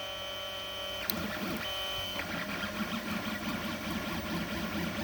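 A Creality CR-100 3D printer hums steadily while feeding filament back and forth, with a sharp click near the start and soft shifting motor whirs throughout, fairly quiet and close.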